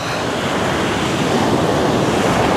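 Continuous roar of surf at Playa de la Mena with waves washing in steadily, a broad rushing wash filling the whole clip, nothing else standing out.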